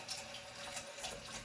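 Hot water runs from a kitchen tap into a pot in the sink, a steady, quiet hissing stream with no break and no talking.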